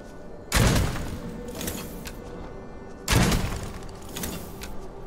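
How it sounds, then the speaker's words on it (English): Stake gun in the game Witchfire firing stakes: two sharp, loud bursts a few seconds apart, each with a broad punchy attack and a rattling tail, over a low ambient game background. "Literally just shooting sticks."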